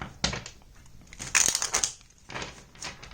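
Tarot cards being shuffled, a few bursts of papery riffling and crisp card slaps close to the microphone, with short pauses between the shuffles.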